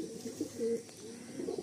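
A pigeon held up for display coos softly and close by, a few low throaty purrs over a quiet background.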